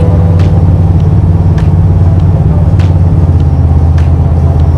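Car travelling at speed on an American road, a steady loud engine and tyre rumble that holds constant throughout, with faint periodic ticks overhead and no talking.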